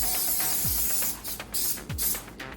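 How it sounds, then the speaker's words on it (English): Several short hissing bursts from a cooking spray can onto a non-stick donut pan, close and fairly loud, separated by brief clicks and pauses. "I'm gonna just lightly spray this."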